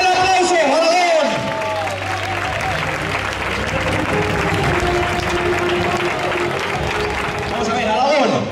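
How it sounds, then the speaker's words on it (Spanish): A bullring crowd at a recortes event in Alagón, Zaragoza cheers and claps loudly and continuously. A shout and an announcer's voice sit above the sustained roar of applause and crowd noise. "David Ferrer, ¡fuerte el aplauso,"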